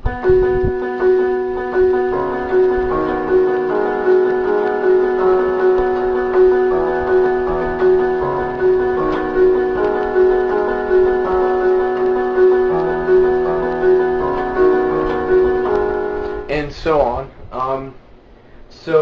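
A piano plays the steady, repeating intro figure of a song with sustained chords and a clear upper melody, fairly loud, ending with a few softer scattered notes.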